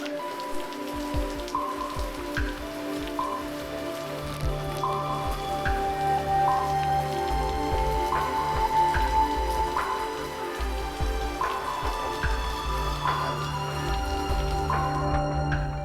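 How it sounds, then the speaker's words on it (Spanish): Steady rain falls on the Venezuelan plains, a dense patter of close drops striking surfaces with a constant hiss underneath. It holds an even level throughout and no one speaks. "Como ustedes ven que ahorita está lloviendo"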